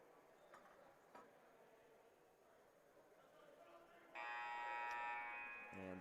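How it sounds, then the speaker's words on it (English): A loud, sustained electronic buzzer sounds at a junior varsity high school basketball game, cutting in abruptly over faint gym ambience and holding steady for nearly two seconds. "And there's the buzzer"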